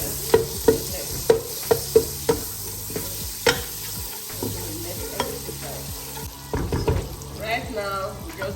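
Butter melting in a pan before eggs go in for an egg stew, a crackling sizzle with a run of sharp utensil knocks and scrapes, a quieter stretch, then livelier spitting toward the end.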